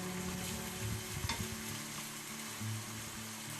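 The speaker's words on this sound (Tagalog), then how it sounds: "hayaan na lang muna natin sila dyan ka friend chef hanggang medyo maprito yung ating sweet ham" Ground pork and sweet ham fry together in a pan for spaghetti, a soft continuous sizzle with a few faint utensil clicks near the middle, steady and fairly quiet.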